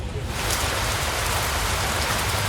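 Heavy rain at Bueng Kaen Nakhon in Khon Kaen falls in a loud, dense, continuous patter and hiss close by, with no voices.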